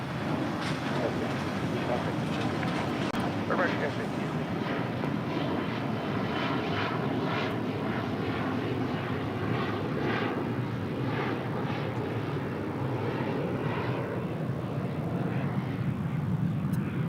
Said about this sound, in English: Lufthansa A350 just touching down here on the south side.